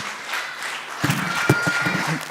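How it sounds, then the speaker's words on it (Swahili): A congregation applauds at a Kikuyu Holy Communion service in ACK All Saints Church, Limuru: quiet room murmur, then a burst of steady clapping from about the middle that continues to the end. "Tuwapigie makofi mazuri."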